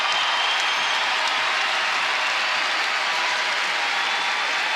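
Basketball arena crowd at an NCAA women's tournament game, Georgia vs Iowa, roaring and cheering in a dense, sustained wall of noise with no break.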